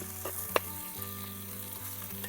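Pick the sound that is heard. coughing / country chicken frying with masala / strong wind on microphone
country chicken frying with masala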